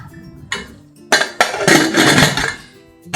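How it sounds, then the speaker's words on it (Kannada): A metal lid closing on a cooking pot while beetroot kurma cooks, giving a few sharp clanks and clinks in quick succession, close and loud. "ಲಿಡ್ ಕ್ಲೋಸ್ ಮಾಡಿಕೊಂಡು"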